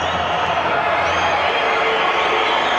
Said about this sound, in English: The crowd booing don't agree with the decision